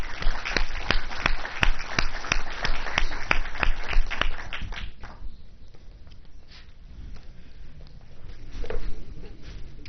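An audience at a talk with the Governor of Costa Rica claps in sharp, fairly regular beats for several seconds before the clapping thins into scattered, softer handclaps and a brief swell near the end.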